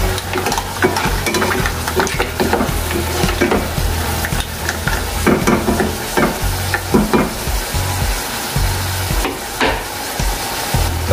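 Squid and clams sizzle in a hot pan while a utensil stirs them, steady frying hiss punctuated by repeated scraping and clacking strokes throughout, close and fairly loud.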